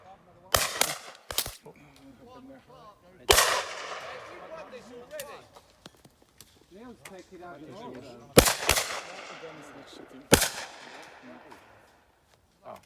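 Shotgun shots at a clay pigeon shooting range: several sharp, loud blasts spaced irregularly across the span, with people talking quietly between shots and outdoor range ambience.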